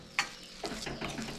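Banana flower thoran is stirred in a pan, giving scraping, scuffing stirs close by with a faint sizzle under them.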